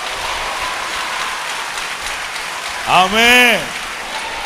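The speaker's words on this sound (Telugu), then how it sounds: "సంతోషంగా ఉన్న వాళ్ళందరూ గట్టిగా చప్పట్లు కొట్టండి." A church congregation at Sunday worship keeps up continuous clapping throughout, with a man's short loud exclamation cutting in over it near the end.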